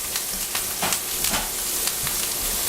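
Lamb sizzles loudly in a hot pan with thyme, whole skin-on garlic cloves and a nub of butter, a dense close crackle and hiss with small popping bursts and no talking.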